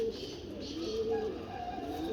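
Pigeon cooing from a loft of newly feathered pigeons, soft low throaty coos repeating at a quiet, close level with no talk over them.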